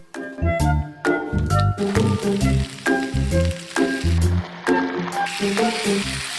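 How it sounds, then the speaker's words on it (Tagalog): Chicken wings sautéing with garlic and ginger before oyster sauce goes in, a close sizzle broken by repeated clattering knocks of a utensil in the pan, roughly one every half second. "pwede nyo nang ilagay yung bawang at luya. Gisa nyo lamang ng mga 1 minute"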